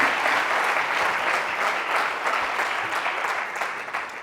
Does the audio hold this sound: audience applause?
yes